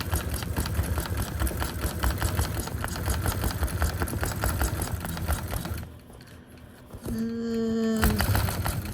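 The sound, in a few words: Gammill longarm quilting machine basting fabric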